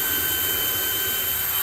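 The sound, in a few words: power drill driving screw into planter board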